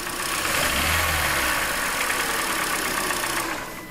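A Hyundai Elantra engine with a ticking fault is given a little gas, its steady mid-pitched running rising slightly in a short rev before settling, heard close up under the hood.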